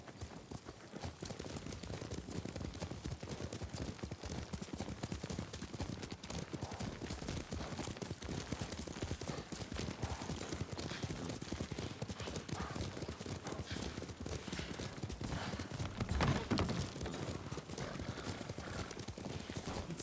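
Steady rhythmic clip-clop of a horse's hooves while riding in Ghost of Tsushima, close and continuous for the whole stretch, with a neigh or whinny at one point.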